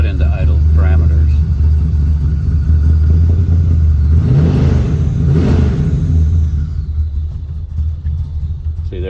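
A tuned car engine with a big cam idling, heard as a loping low rumble with an uneven throb; someone talks over it throughout, and a brief rev swells in the middle.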